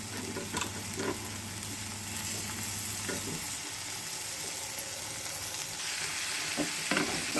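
Tomatoes sautéing in a hot pan with dried red chillies, a steady close sizzle broken by occasional spatula scrapes and stirring knocks, and a low hum in the first half.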